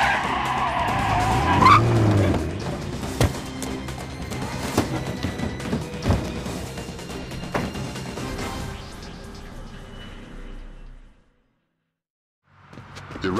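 Tires skid loudly as a vehicle arrives in the Splinter Cell Pandora Tomorrow video game, with a sharp screech near the start over dense engine and game noise that runs for about eleven seconds, falls to silence, then resumes briefly.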